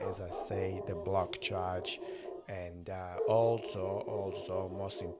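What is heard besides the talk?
No distinct noise like a dog, phone or traffic.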